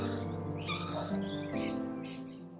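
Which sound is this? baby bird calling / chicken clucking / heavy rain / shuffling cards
baby bird calling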